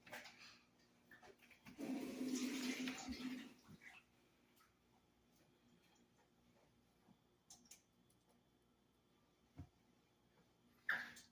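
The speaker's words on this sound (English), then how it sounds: "We're going to take our same brush that we used to mix with and rinse it off just a wee bit." A pastry brush is rinsed briefly under running tap water in a kitchen while making a bourbon peach cobbler, giving a short splashing gush of a couple of seconds, followed by quiet room tone and a few small clicks.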